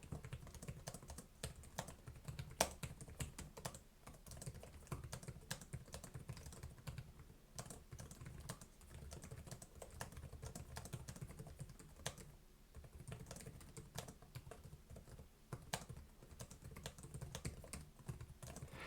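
Continuous close-up typing on an Alienware M18 gaming laptop keyboard, a fast, irregular stream of light key clicks with occasional louder taps, going on without pause.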